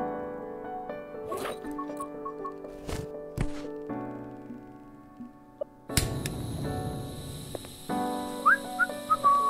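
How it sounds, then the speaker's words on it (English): Kettle whistle from boiling water in a horror video game kitchen, a sustained high tone that rises and holds among scattered clicks, thuds and tonal game effects. "There we go, it's whistling."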